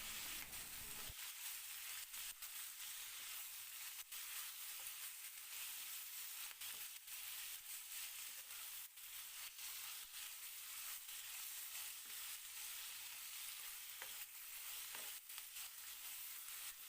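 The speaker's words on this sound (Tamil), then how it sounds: "கருவேப்பிலை சேர்த்து ஒரு 5 நிமிஷத்துக்கு லோ ஃப்ளேமில் வச்சு வதக்கி விட்டுட்டே இருங்க." Curry leaves sauté in a pan over a low flame, giving a steady, continuous sizzle and frying crackle with occasional soft stirring clicks throughout, no voices.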